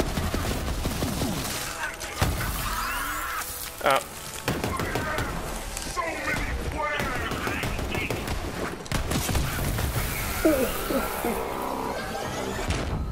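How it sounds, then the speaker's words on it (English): Shotgun blasts and chaotic gunfire in the video game Borderlands 3 burst repeatedly amid loud game effects, with sharp reports scattered throughout and a person talking over the action. "this shotgun is just the best"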